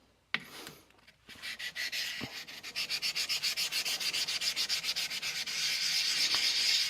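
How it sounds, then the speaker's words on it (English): A small silicon carbide stone is rubbed back and forth over the face of a resin-bonded diamond sharpening stone, producing a steady run of rapid, close, gritty scraping strokes that grow slightly louder and denser toward the end. "I'm going to prep the surface with this little SIC stone"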